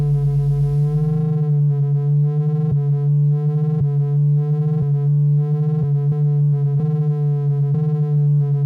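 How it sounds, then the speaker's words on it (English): A buzzy, harmonically rich descending sawtooth synth drone pulses in steady repeating cycles, each sweep falling in level before restarting, with no voices. "Descending sawtooth."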